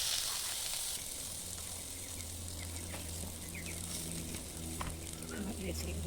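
Onion, garlic and panch phoron spices sizzle steadily in hot oil for an Assamese potato chop, a continuous close crackle with faint stirring scrapes and a low hum under it.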